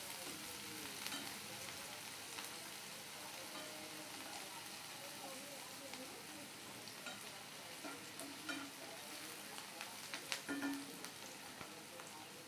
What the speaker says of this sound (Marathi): दोन लाल मिर्च घालते सुकी, कांदा लाल होईपर्यंत परतूया.